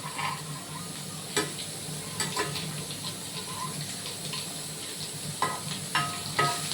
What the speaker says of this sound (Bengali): ডিমটা আর একটু ভাজা হবে।